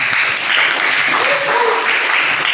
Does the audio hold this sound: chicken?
no